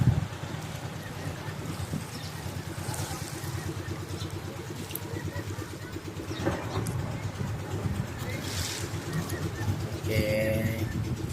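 A boat engine drones steadily across a breezy, windy background, with birds calling faintly and a brief burst of louder noise near the end.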